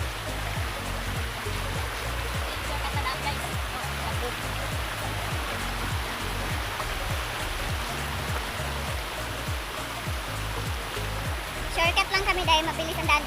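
Steady rushing water from a flowing river, broad and continuous, with a low rumbling churn underneath.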